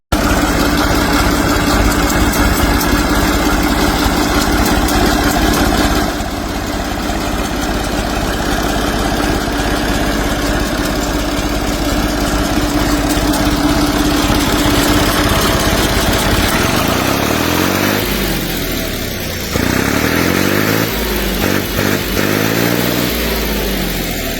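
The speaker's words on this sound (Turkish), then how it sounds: "1977 model Ford 3600 55 beygirlik bir motor gücüne sahip görmüş olduğunuz bu traktörde 8 ileri 2 geri vites var." A 1977 Ford 3600 three-cylinder, 55-horsepower tractor engine idles steadily and loudly close by, a continuous rumbling drone that shifts and roughens in the last few seconds.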